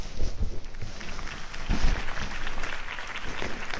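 A crowd at a campaign rally for Harvey Dent applauds. The clapping is dense and steady and sounds somewhat distant and muffled, with a few sharper claps standing out.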